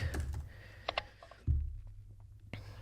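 Quick, light keystrokes on a computer keyboard during a shogi match broadcast come in small bursts of taps, close and fairly quiet over a low background hum, with no talking.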